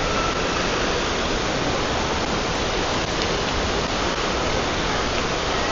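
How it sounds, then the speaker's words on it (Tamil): Panchagiri waterfall in Sikkim roars as a steady, dense broadband rush of falling water, continuous and loud throughout with no pauses and no voices. "பஞ்சாகிரி ஃபால்ஸ், சிக்கிம்"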